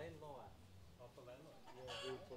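Rooster clucking and calling in the Cambodian countryside, several short fowl calls at a distance, faint under outdoor ambience with some background voices.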